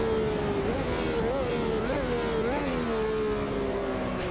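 A Brabham BT46 Formula 1 car engine in Automobilista 2 revs through several quick up-and-down blips, then holds a steady loud drone, close and continuous with no talking.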